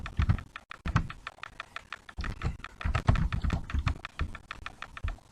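Quick, irregular typing on a computer keyboard with a non-French layout, close and moderately quiet, with clustered key taps and brief pauses and no talk over it.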